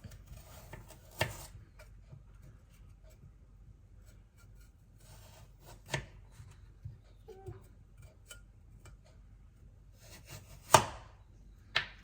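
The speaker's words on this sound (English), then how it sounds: "Then try and slice some really thin slices of carrot." A knife slices thin rounds of carrot on a cutting board, giving a few sparse, separate cuts spread out with quiet pauses between them, fairly close and soft.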